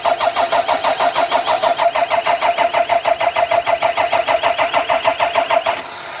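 An engine cranks over in a steady rhythmic churn for about six seconds after brake cleaner is sprayed into the intake, loud and close, then cuts off without catching fully.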